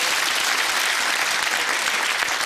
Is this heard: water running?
no